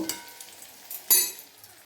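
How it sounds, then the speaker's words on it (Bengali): Prawn cutlets (chingri macher chop) frying in hot oil, a short burst of crackling sizzle with a couple of louder spits and a utensil scrape before it cuts off. "এইভাবে একে একে আমি সব চিংড়ি মাছের চপগুলো ভেজে আমি রেডি করে নেব"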